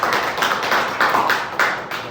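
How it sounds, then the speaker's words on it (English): A room of participants at an infant first aid and CPR training class claps together, a steady mid-loud patter of hands with a few stronger swells that continues throughout. "Give us a round of applause"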